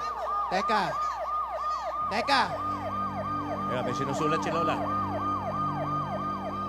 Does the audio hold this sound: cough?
no